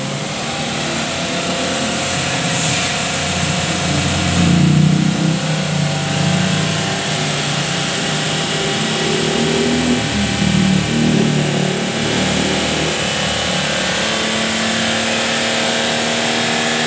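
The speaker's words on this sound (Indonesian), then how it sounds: "Lagi dites mesin temperaturnya." The engine of a 2010 Daihatsu Xenia runs steadily during a temperature test in a radiator repair shop, giving a loud, close, continuous hum with slight swells.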